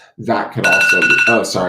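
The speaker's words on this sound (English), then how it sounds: "that's my alarm" A phone alarm goes off with a steady electronic tone that sounds over continuous talking, sitting at moderate loudness beneath the voice for about a second.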